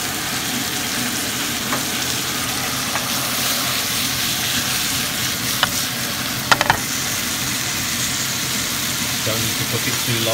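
Porcini mushrooms fry in browned butter over medium heat with a steady, dense sizzle and crackle, close and continuous, a few sharp pops and clicks standing out near the end, a voice faintly under it.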